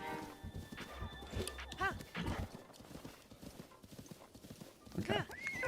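Horse hooves clip-clopping in The Legend of Zelda, a steady rhythmic trot moderately close, with a brief neigh and speech-like game sounds around it.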